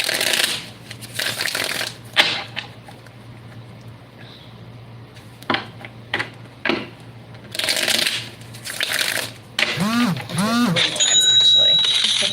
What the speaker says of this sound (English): I'm going to shuffle 2 more times before we start your reading